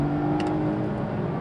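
A Volvo S60 sedan accelerating on a wet road, a steady engine drone rising under continuous road and wind noise, heard from inside the car, with a couple of brief clicks early on.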